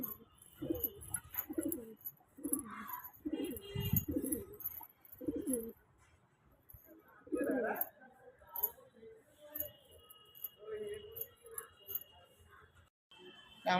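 Domestic pigeons kept in a home loft give repeated low, throaty coos in a loose series of bursts, fairly close but soft, with a few faint clinks and quiet gaps between calls.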